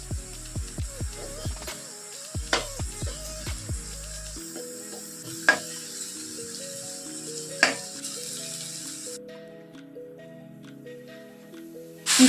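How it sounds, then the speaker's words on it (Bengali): Nuts and raisins fry in a little ghee in a pan while making semolina malai pitha, a run of sharp clicks and stirring clatters giving way to a soft sizzle that fades. "মাঝখানে অল্প একটু ঘি দিয়ে বাদাম আর কিচমিচগুলো আমি ভেজে নেব"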